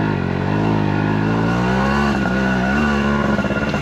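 A motorcycle engine drones loud and close as the bike labours off-road through soft sand, a steady strained tone that wavers slightly with throttle.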